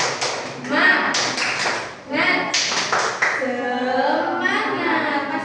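Children doing a rhythmic spirit clap together: sharp, patterned group hand claps in clustered bursts, mixed with kids' voices and chanting.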